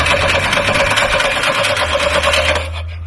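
An old truck's engine cranks over with a loud, rapid, rhythmic mechanical chatter close up, then cuts off abruptly near the end, leaving a quieter hum.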